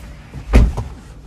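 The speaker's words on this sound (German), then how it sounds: "und die Tür ist zu, ich schnall mich an" A Tesla Model 3 facelift door shuts with a single solid, close thump, followed by a softer secondary knock and quiet cabin ambience.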